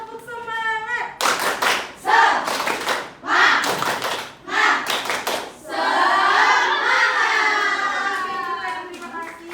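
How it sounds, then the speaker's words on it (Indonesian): A class of children performs the 'tepuk semangat' clapping chant, rhythmic clusters of claps alongside loud chanted voices, finishing with a long, drawn-out group cheer; an adult voice is briefly heard at the opening. "Sekali lagi, tepuk semangat!"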